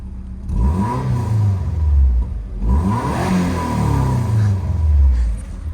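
A Subaru Impreza 22B revs its engine and pulls away, a loud, close rumble rising twice in strong accelerating sweeps with no talk over it.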